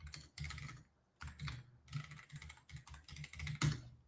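A command is typed on a computer keyboard in several quick bursts of close clicking keystrokes separated by short pauses, quiet and without speech.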